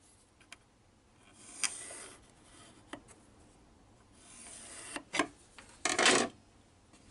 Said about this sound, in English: I can draw a straight line connecting the 2.